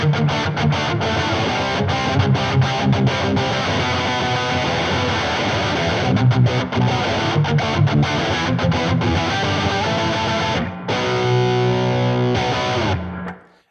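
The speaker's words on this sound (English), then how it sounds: "Now I want you to go full blown like 90s pop punk with the distortion." An electric guitar played through heavy 90s pop-punk distortion, loud and sustained with thick driven chords and brief choppy pauses, fading out at the end.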